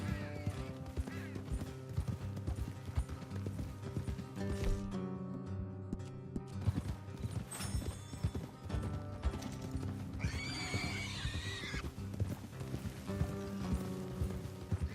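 Steady clip-clop of a horse's hooves while riding in Red Dead Redemption 2, with whinnies and neighs over a continuous rhythmic gallop, accompanied by other game sounds.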